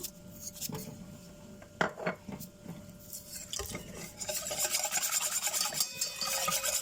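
Ground meat seasoned with salt and pepper is mixed in a bowl, giving scraping, rubbing and clinking sounds of utensil against the bowl, irregular at first and growing busier and more continuous.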